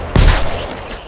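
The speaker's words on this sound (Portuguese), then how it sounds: "Dá um tiro na perna" A single gunshot from the 7 Days to Die video game, modded, hits hard as one sharp, loud blast and then fades into a short rumbling tail.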